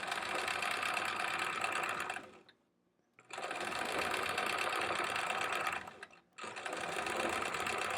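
Sewing machine free-motion quilting a pineapple block, running in steady fast stitching bursts of about two seconds each, with two short pauses between runs; close and fairly loud, no talking.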